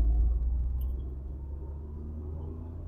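Tata Tiago running on petrol in second gear with the AC switched off, giving a steady low engine and road rumble heard from inside the cabin, strongest at first and easing slightly, with no talking.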